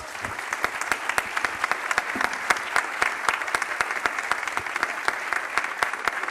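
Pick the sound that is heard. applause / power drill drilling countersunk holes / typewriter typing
applause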